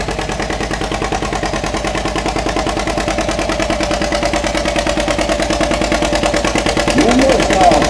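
A 1949 John Deere B tractor with a chrome stack runs at a tractor pull, its two-cylinder engine giving a loud, steady, close-up popping chug that swells slightly near the end.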